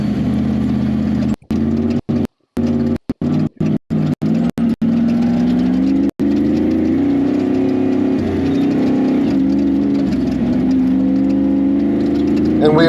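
An off-road race vehicle's engine drones loudly and steadily as it climbs back to race speed on course, the sound broken by several brief dropouts early on.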